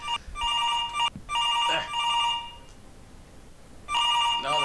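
Telephone ringing in the video game Where The Bees Make Honey, a loud electronic trill sounding in repeated bursts with short pauses, then a quieter gap before it rings again.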